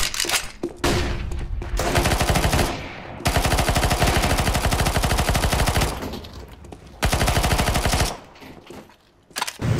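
Rapid PP-Bizon submachine gun fire in Counter-Strike: Global Offensive, loud sustained bursts of several seconds each with short pauses between them, heard alone without talk.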